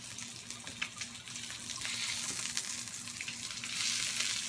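Pork belly frying in a pan at home for Korean-style grilled pork, a steady crackling sizzle with scattered pops throughout, fairly faint and without voices.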